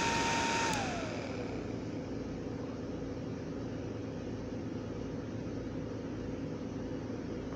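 A small blower fan loses power, and its whine slides down in pitch over about a second. A steady, close airy whoosh of the blades winding down follows.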